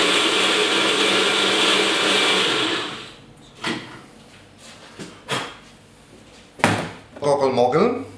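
A Kenwood kitchen machine grinds almonds, a loud steady whir lasting about three seconds before cutting off, followed by a few sharp knocks and clatters, then a person begins talking.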